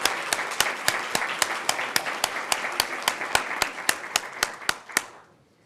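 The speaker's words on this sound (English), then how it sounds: "Please join me in a round of applause for the United States Army's newest facility dogs" Rhythmic clapping at a military commissioning ceremony for Army facility dogs, sharp even claps about four per second that stop abruptly near the end, with a soft room hum and reverb trailing off.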